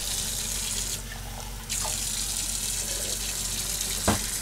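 Water pours steadily from a tap into a sink, a continuous hissing rush that briefly changes tone midway, with a short knock near the end.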